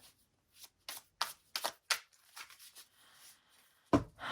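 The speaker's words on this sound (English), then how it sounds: "Let's shuffle this deck up." A deck of tarot cards is shuffled in several quick riffling bursts separated by short pauses, close and crisp, ending in a sharp final tap.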